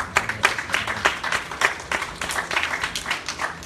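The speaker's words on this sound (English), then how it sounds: "clap for him." Audience clapping at a church sermon, a dense, steady burst of applause with sharp individual claps throughout, close and fairly loud.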